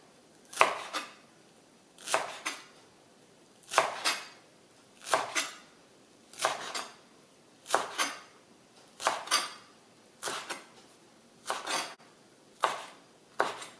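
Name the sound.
knife slicing salad ingredients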